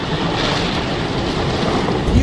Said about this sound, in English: we're already feeling these wind gusts of 35 miles per hour, probably even more